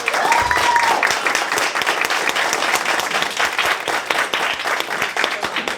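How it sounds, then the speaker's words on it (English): A crowd applauds steadily, with dense, sustained clapping that carries on for several seconds without letting up. "I just want to give him a round of applause for his knowledge."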